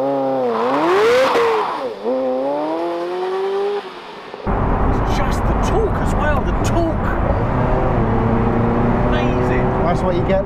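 A Ferrari F40's twin IHI turbocharged engine pulls hard under acceleration, its rising drone sweeping upward from inside the cabin, then settling into a loud, rough, steady roar with turbo whistle and whooshes, while people talk over it.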